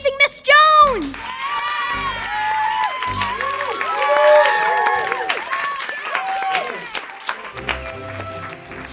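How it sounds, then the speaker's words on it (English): A standing ovation for a teacher after a school stage performance: loud clapping mixed with high cheers, whoops and whistles from children and adults, with shouting voices rising and falling over the steady applause. "Standing ovation."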